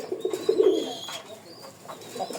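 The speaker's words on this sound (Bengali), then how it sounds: "নর যেমন ডাক, ফ্রেশ কবুতর, একদম ফ্রেশ আছে" Pigeons coo in a short, soft, warbling burst, then fainter calls continue against light background noise.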